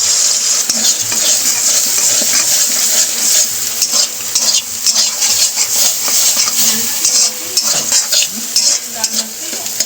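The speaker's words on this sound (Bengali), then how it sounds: "ডিমটাকে আমরা ভেজে নিচ্ছি।" An egg fries in a pan with steady, loud sizzling and crackling, and occasional scraping from stirring runs throughout.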